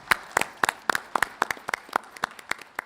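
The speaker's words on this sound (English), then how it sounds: "let's close this with a very loud round of applause." Applause closing a panel at the TV9 WITT Summit, sounding as a sparse run of about a dozen distinct, crisp claps in a loose irregular rhythm, close and moderately loud.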